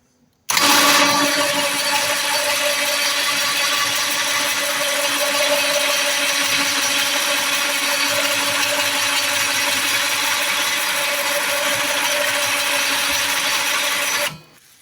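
An ATV winch motor on a Hisun-built Coleman Outfitter UT400 reels in cable to take up slack, giving a loud, steady mechanical whine and grind that runs unbroken for about fourteen seconds before stopping abruptly.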